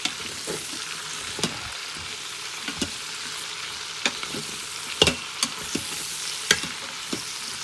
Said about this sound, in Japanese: And saute well.